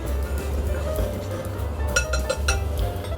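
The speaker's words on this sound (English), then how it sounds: "And we'll whisk all this together." Flour, salt and baking soda are whisked together in a bowl, giving a quick series of light clinks and scrapes of a metal whisk against the bowl over a quiet background.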